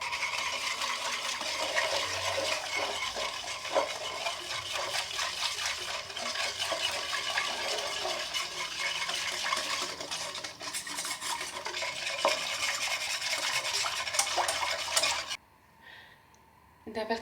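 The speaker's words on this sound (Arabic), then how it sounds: "غنخلط مزيان هاد العناصر" A spoon stirs lemon juice, sugar, flan mix and pastry cream together in a bowl for an orange cake, a continuous close scraping and clinking that runs steadily before falling quiet near the end.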